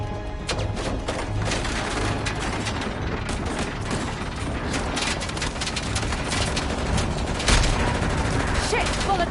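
Dense gunfire in the video game Uncharted: The Lost Legacy, rapid overlapping shots and bursts, loud and close, continuing without pause for around nine seconds.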